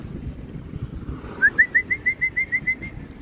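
A homing pigeon arrives at the loft during a training release, marked by a run of about nine clear, evenly spaced whistled coos or calls close by over a low outdoor rumble.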